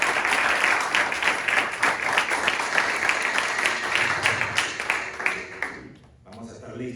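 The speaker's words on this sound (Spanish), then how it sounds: "aplauso a nuestro Señor" A church congregation applauds together in a dense, steady wave of clapping that carries on for about six seconds before dropping away, with a few scattered claps and voices lingering at the end.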